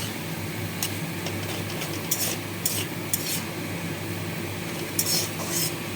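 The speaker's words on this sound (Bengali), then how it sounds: "এবার দিয়ে দিচ্ছি থোড়টা, নেড়ে চেড়ে একটু জল দিয়ে দেবো" Banana stem and papaya pieces are stirred in a pan, a continuous low sizzle punctuated by several sharp spatula clinks and scrapes against the metal.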